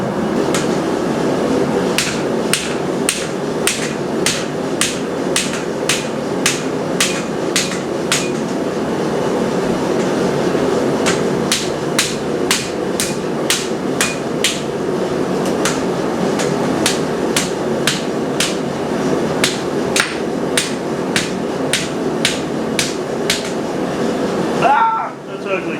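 Hammer blows forge a hot iron rail scroll over an anvil horn, landing as steady rhythmic ringing strikes in runs of a dozen or so with short pauses between, amid workshop noise and occasional voices.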